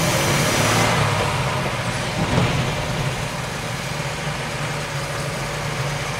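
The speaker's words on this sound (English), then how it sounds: "Oh God, it's loud in here. Because I'm sitting on top of the bloody motor is why it's loud." Small old truck engine heard from inside the cab while driving, a loud steady drone and rumble with the engine sitting right underneath, continuous throughout.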